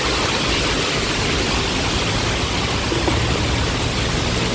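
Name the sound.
water flowing nearby in a stream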